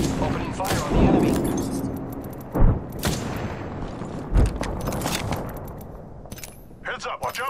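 Gunfire in the Apex Legends battle royale game, several sharp shots and bursts spaced across the clip, loud and close, with a voice speaking over part of the shooting.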